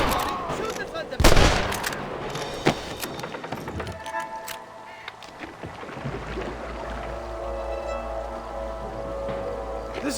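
Gunfire from a Red Dead Redemption shootout, with sharp cracks and a heavy burst early, then scattered shots over a steady rumbling background.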